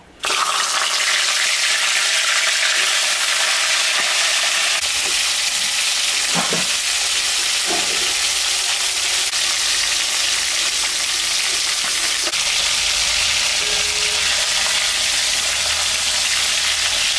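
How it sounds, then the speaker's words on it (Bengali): A fish head fries in hot oil in a home kitchen, giving a loud, continuous sizzle with occasional scraping stirs, no voices over it. "মাছের মাথাটা এখন আমি ভাজে নিব।"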